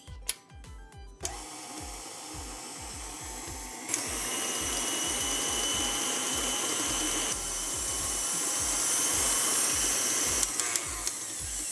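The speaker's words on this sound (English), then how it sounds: "we're gonna put the butter and the sugar in the mixer and we're gonna cream it" A stand mixer creams butter and sugar, its motor whirring steadily and close with a rapid rhythmic knocking of the beater in the bowl, getting louder partway through.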